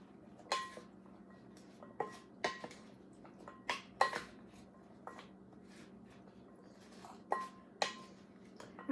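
Spoons stirring and tossing a fruit and nut salad with dressing in a bowl, giving a run of light clinks and scrapes at an uneven rhythm, close and fairly soft, with no talk.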